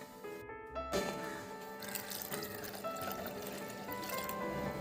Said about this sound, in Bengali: এবার দিয়ে দেবো এর মধ্যে পরিমাণ মতন জল।